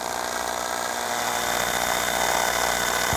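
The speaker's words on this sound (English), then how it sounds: "So you hold your mandrel and you just drill" A steady, high whining drill runs continuously at close range, grinding without pause through a hammered metal ring held on a mandrel.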